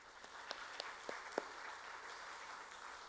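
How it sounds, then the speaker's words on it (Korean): A church congregation at a Sunday morning service claps faintly and at a distance. A few sharper individual claps stand out over a soft, diffuse wash of applause. "이제 박수 한번 하겠습니다."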